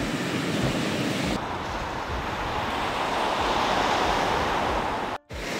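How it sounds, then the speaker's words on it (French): Steady roar of sea waves breaking on the beach at Kamakura, a continuous broadband wash with some wind buffeting the microphone, loud throughout apart from a brief dropout near the end. "On est en face de la mer, c'est bien."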